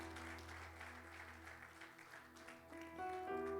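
A church congregation applauds the Lord, a steady round of clapping from many hands, moderately distant, with a sustained organ or keyboard chord ringing beneath and rising toward the end.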